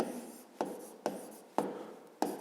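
Pen or chalk writing out a physics problem solution, a steady scratchy rasp broken by four sharp taps at regular intervals as strokes begin, close and fairly quiet with no talking.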